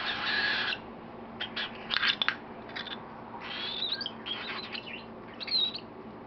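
Baby cockatiel chirping as it is spoon-fed, with short, high, scattered chirp bursts that come and go fairly quietly, without talk.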